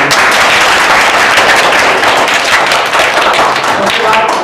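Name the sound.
audience clapping for quiz winners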